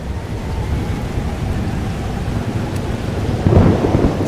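Thunderstorm in the video game Life Is Strange Double Exposure: steady heavy rain hiss with low rolling thunder throughout, swelling into a louder close rumble near the end, with no voices.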